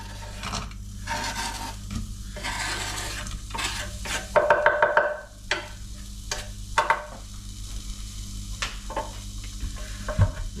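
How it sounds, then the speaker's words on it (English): Chopped onion goes into warm olive oil in a pan over medium heat and starts to sizzle, with a loud burst of frying mid-clip and scattered utensil clatter. Nobody speaks. "I'm going to get a little olive oil into this pan. Just got this on a medium heat. And once that gets slightly warm, we're going to go in with the onion."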